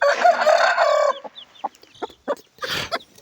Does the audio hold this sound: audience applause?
no